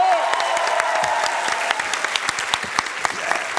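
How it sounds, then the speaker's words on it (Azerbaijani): A studio audience at a television show claps steadily, a dense and lively round of applause with sharp individual claps standing out, fairly close and carrying on without a break. "nə olar əziz tamaşaçılar, məni alqışlayın da, xahiş eləyirəm"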